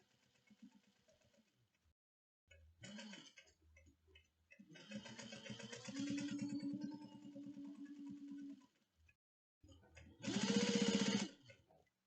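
A sewing machine stitches through a bag with foam interfacing, running in several separate bursts of steady mechanical whirring, the last burst loudest and closest, with short pauses in between.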